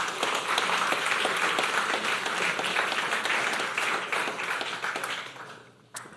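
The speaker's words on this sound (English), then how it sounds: "Let's give a big round of applause to James to get that started." An audience applauds steadily for a lecture speaker on humanity and the deep ocean, loud and dense throughout, then tapering off near the end.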